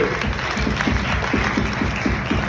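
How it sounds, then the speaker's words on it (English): A crowd at a launch event claps for healthcare workers, a fairly quiet, steady patter of applause with individual hand claps audible through the mix. "Let's give a round of applause for healthcare."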